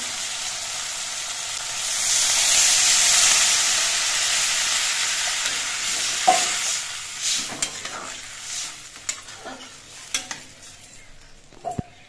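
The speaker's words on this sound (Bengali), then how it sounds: "এবার এর মধ্যে আমি ঝোল দিয়ে দিচ্ছি।" Broth is poured into sizzling sautéed spiced vegetables in a pan for a khoyra fish curry, bringing a loud hissing burst that gradually settles into a quieter simmer with scattered clinks of a utensil.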